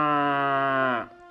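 A water buffalo pulling a cart gives one long, loud, close low moo that holds steady and then drops away at the end.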